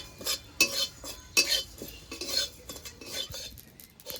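Whole cumin seeds stirred in a pan with a metal utensil, a series of scraping clinks in uneven rhythm, close and moderately quiet, with a faint sizzle and no talking.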